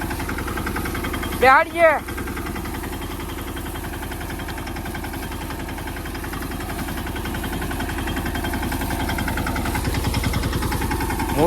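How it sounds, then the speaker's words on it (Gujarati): A mini tractor engine idles with a steady, low, throbbing rumble that rises slightly toward the end, while someone talks close by. "અને આ મિની ટ્રેક્ટર છે"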